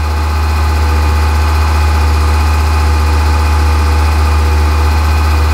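A car engine holds at about 2,500 RPM during a catalytic converter test, giving a loud, steady, close-up drone with a deep low hum and no change in pitch or level.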